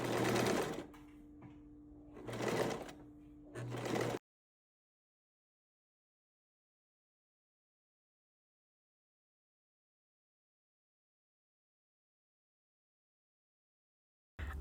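A sewing machine stitches an apron seam in a few short, loud bursts of rapid mechanical whirring with brief pauses between them, followed by a long stretch of silence.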